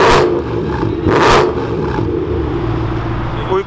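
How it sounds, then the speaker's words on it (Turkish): A 1992 BMW M3 engine with a Megan Racing aftermarket exhaust revs sharply twice, each burst loud and throaty, then settles into a steady idle rumble. "Bence bugüne kadar dinlediğim en iyi 92 M3 sesi diyebilirim."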